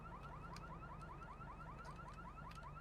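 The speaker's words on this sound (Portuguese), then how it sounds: "Olha, já está a tocar o alarme e tudo." A car alarm blares in a steady, rapidly repeating rising whoop, continuous and unbroken, sounding faint and somewhat distant with no voices over it.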